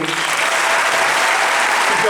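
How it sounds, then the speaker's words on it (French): Sustained audience applause at the Vendée Globe 2016-2017 prize ceremony, a dense, steady wall of clapping close and loud throughout with no break. "Je voudrais qu'on applaudisse à nouveau Sébastien Destrebo"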